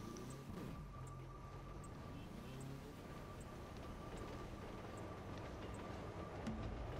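A train rumbles steadily past a railway crossing near Chicago, its low continuous drone joined by faint, regularly repeating high tones, with no talk.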